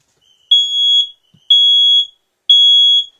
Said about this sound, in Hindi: ये अलार्म जो है वो अब भी बज रहा है, यानी ये चेतावनी थी कि कुछ हादसा हो गया है